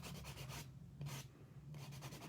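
A nail buffer rubs back and forth across gel nails during a manicure, giving repeated close, soft scratchy strokes in short bursts with brief pauses between them.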